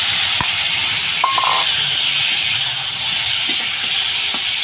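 Tomato added to a pan where a lightly fried egg is cooking for egg khichuri, giving a steady, loud sizzle and hiss throughout with a few brief clinks, no voices.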